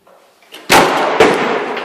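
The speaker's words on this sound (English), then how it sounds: "something slams a door shut right next to him" A door slams shut twice in quick succession, two loud sharp bangs close by, with a fading reverberant tail after each and only faint noise before them.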